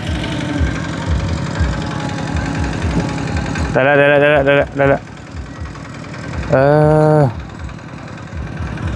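A tractor engine idling with a steady low chugging rumble that runs throughout, broken by two short bursts of a tonal whine, while a person speaks briefly close by.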